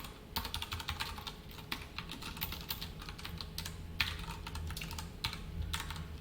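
Rapid, uneven clicking of fingers typing JavaScript code on a computer keyboard, close and fairly quiet, with short bursts and brief pauses and no talk.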